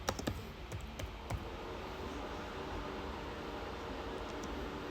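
Rapid keystrokes clatter on a computer keyboard in a brief irregular burst near the start, then fade into a steady hiss, close and fairly quiet.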